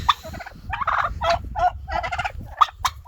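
Bronze and white broad-breasted turkey hens on a farm giving repeated loud, close gobbling calls in quick bursts, one after another with short gaps.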